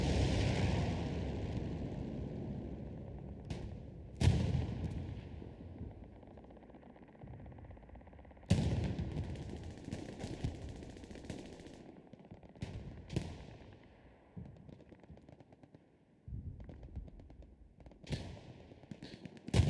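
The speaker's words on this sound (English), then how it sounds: "What is blowing up? Well, that's a Panther versus infantry getting a takedown there." Battle sounds in the Hell Let Loose video game as a Panther tank fights infantry, with several loud booming explosions and gunshots separated by decaying rumble and quieter stretches of distant gunfire.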